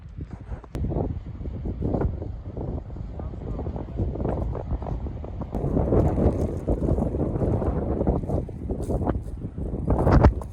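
Gusty outdoor wind buffeting the microphone on a cloudy, on-and-off windy day in Colorado, a steady low rumble that swells and eases throughout, with a person talking over it.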